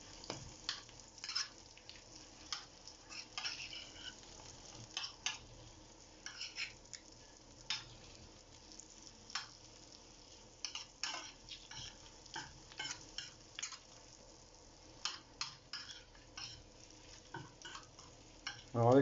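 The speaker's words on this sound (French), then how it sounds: "Et je vais continuer à l'arroser régulièrement avec mon beurre et mon ail." Cuttlefish roe cooks in a pan with butter and garlic, a soft low sizzle broken by repeated spoon clicks and splashes as the fat is ladled over at irregular intervals, without speech.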